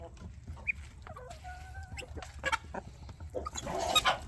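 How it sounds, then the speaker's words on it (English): A rooster on a farm kept with chickens, ducks and guinea birds gives a series of short, fairly close clucks and squawks over a steady outdoor rumble, with other fowl calling faintly behind. "And that's a rooster. See the rooster?"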